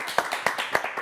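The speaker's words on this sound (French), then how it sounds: "on l'applaudit quand même" A handful of scattered handclaps from a small studio audience greet a performer. The claps are quick and uneven and fairly faint, lasting only a moment.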